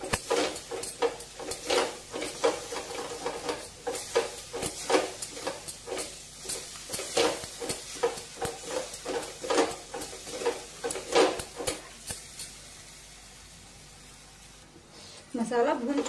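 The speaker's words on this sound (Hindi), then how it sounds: "मसाला भून चुका है, आप देख सकते हैं पूरी तरह कढ़ाई में चिपक गया है।" Masala spice mix roasting in a kadhai while being stirred, with steady scraping and clinking strokes over a soft sizzle that runs for most of the stretch, then quiets near the end before a final clatter.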